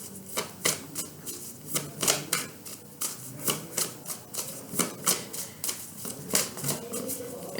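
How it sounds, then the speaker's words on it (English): Tarot cards being shuffled over and over, a steady run of crisp riffling bursts at close range with no voices. "I'm going to try a few more shuffles"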